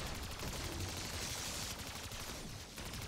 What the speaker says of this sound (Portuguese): Você tem que dar o tiro da Ray Gun com o braço, com o botão direito